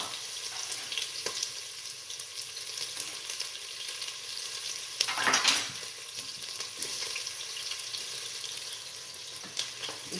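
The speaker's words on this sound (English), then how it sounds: "So I'm actually frying the onions" Onions fry in hot oil in a home kitchen pot for a chicken stew, a steady close sizzle with occasional stirring scrapes and a louder burst midway.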